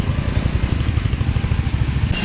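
A motorcycle ridden along a road toward Trimbak ghat near Nashik, with a close, steady, rhythmically pulsing engine drone and rumble throughout.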